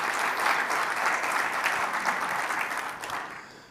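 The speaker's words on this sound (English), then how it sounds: "That deserves a round of applause" An audience claps at a startup pitch competition semi-final event, a dense steady round of applause that tapers off at the end.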